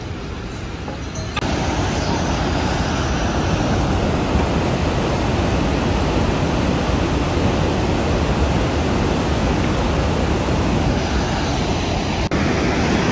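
Fast glacier meltwater river rushing down from high above near Gobind Ghat on the Hemkund route, a loud, steady broadband roar close by, jumping up sharply after a quieter first second.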